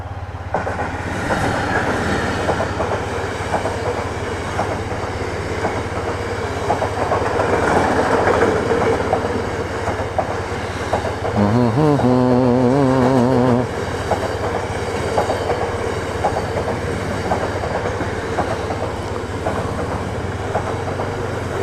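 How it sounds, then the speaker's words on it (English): A train rumbles past with a steady roar and rhythmic clatter of wheels, a brief squeal of metal partway through, heard from a waiting motorcycle, without talk. "Hear the train coming, so we shouldn't be too long."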